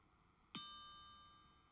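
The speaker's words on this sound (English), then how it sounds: "It is the chime watch that goes off every hour." A Patek Philippe Belcanto chime watch strikes its hourly chime: a single bright, clear ding that rings on with a long, slowly fading tail over a quiet background.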